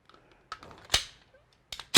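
Handgun shots at a shooting range ring out as several sharp, separate cracks spaced irregularly, a couple of them close together, with quiet gaps between them.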